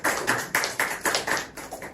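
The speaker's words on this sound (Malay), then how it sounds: "Jadi kita beri tepuk tangan ke Allah Ta'ala." Church congregation clapping hands in a steady rhythm, about eight crisp claps spaced roughly a quarter second apart, moderately close in a room.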